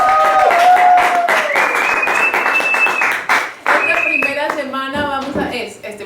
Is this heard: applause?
yes